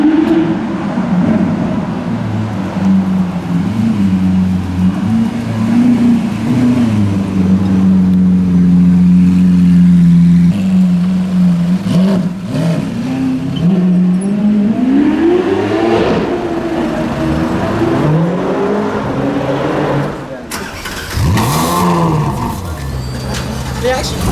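Powerful Lamborghini Aventador engines idling and revving, deep droning rumble rising and falling in pitch, loud and close, with several throttle blips and surges.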